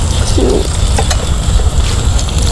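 Bananas frying in a small pan of hot oil, cooked outdoors in a field at night, give a steady close sizzle and crackle with faint stirring clinks throughout.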